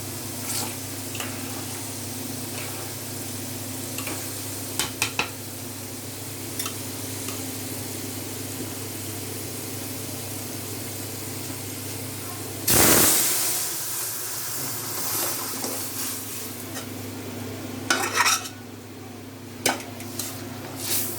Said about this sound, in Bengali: রসুন দিয়ে বাগার দিছি